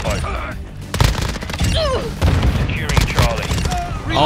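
The new laser gun firing in Modern Warfare 2 during an online match, heard as rapid, loud bursts of bright, zapping shots that repeat in quick volleys, with excited voices talking over the gunfire.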